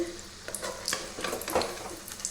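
Bajji fritters crackle and sizzle in hot oil while being turned one by one, with scattered close taps and scrapes of the utensil over a fairly quiet, steady frying bed.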